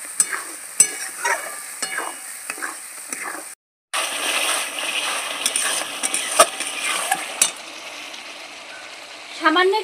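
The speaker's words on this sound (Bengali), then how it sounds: "পরিমাণ মতন হলুদ, মশলাটা ভালো করে কষিয়ে নেব।" Turmeric and spices frying in a pan, a dense continuous sizzle marked by sharp stirring clicks and scrapes, briefly cut to silence, then a louder surge of frying at the close.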